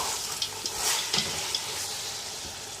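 Green peas and minced meat frying for matar keema pulao, a steady hiss of sizzling with occasional soft scrapes and clinks of stirring, close and continuous without talk.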